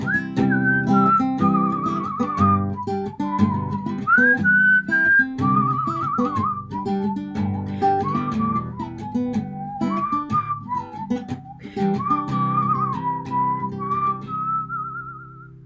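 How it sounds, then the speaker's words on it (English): Melodic whistling carries the tune in a music release preview, a clear, sustained whistled melody over a backing track with rhythmic beats, steady and prominent for the whole stretch. "Mostly to let you guys know that whistling will be included."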